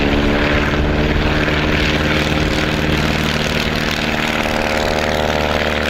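A Piper Super Cub light propeller airplane runs its engine steadily and loudly throughout, a continuous droning hum with strong low harmonics, as it practices short takeoffs and landings near Austin, Nevada.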